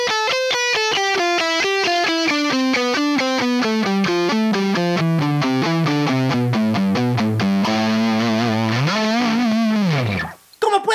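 Distorted electric guitar plays a fast, brutal alternate-picking lick, a dense run of rapid even notes climbing and falling steadily for about ten seconds, loud and alone, ending with a bend and an abrupt stop.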